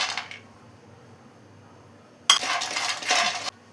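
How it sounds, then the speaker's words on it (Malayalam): Cashews rattle and clatter in a dry pan with no oil: a lone burst of tumbling, clinking nuts that lasts about a second, following near-silence. "ഇനി ഇതേ പാനിൽ തന്നെ അല്പം കാഷ്യൂ ഇട്ടിട്ട് അതും കൂടെ ഒന്ന് ഫ്രൈ ചെയ്തെടുക്കണം."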